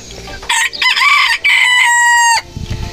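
Chickens fed chopped nettle and oat flakes, heard up close as loud, drawn-out crowing calls with brief clucks, then a quieter shuffle of feeding at the end.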